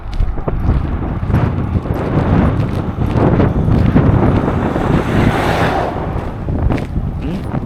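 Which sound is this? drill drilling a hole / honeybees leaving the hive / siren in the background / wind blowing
wind blowing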